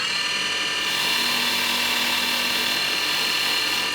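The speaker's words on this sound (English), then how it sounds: "I'm just going to wire wheel off the head of this broken bolt" A wire wheel grinds at the rusty head of a broken bolt on a pre-war BSA motorcycle, a steady, loud, high-pitched whirring scrape that runs continuously and close up throughout.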